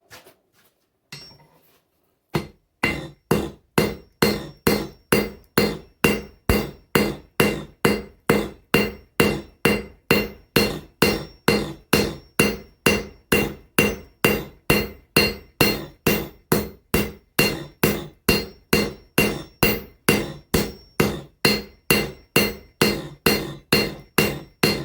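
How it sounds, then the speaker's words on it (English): A cross-peen hammer strikes hot steel while an axe is forged, a long run of loud, evenly spaced ringing blows after a few scattered taps at the start. "I'm going to use a cross-peen hammer to spread the material out this way instead of drawing it out that way."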